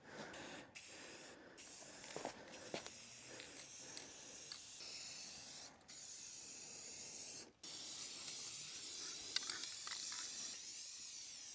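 Bursts of spray paint hiss out in several passes of varying length with short gaps between, laying a base coat on a DIY canoe and kayak rack for a truck bed in cool evening air.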